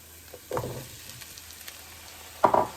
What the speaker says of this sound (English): Our onion is like half done. So I am going to add now potato here.